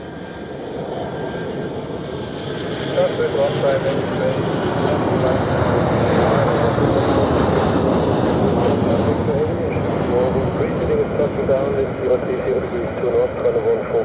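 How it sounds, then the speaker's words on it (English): An Air Europa Boeing 737 arriving from Madrid lands at Zurich Airport, its engines building to a loud, broad rumbling roar that holds steady, with a voice talking over it. "But first we have Air Europa with a 737 from Madrid."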